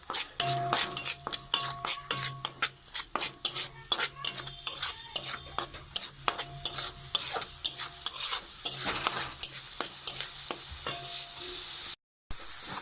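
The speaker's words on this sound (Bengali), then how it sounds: "ভালো করে মশলাটা কষিয়ে নেব।" Spice masala with turmeric and cumin powder fries in a pan while a utensil stirs it in quick, repeated scraping and clattering strokes over a low sizzle, close and fairly loud.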